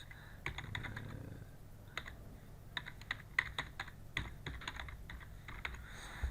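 Email address being typed on a computer keyboard, a quick irregular patter of key clicks in short bursts with brief gaps, close and quiet, no talking.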